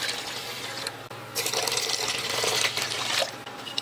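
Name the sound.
water poured into cooking pot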